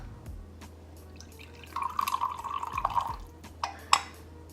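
Coconut milk is poured into a measuring cup in a kitchen, giving a soft close trickle and a few drips. Two sharper liquid plops follow near the end.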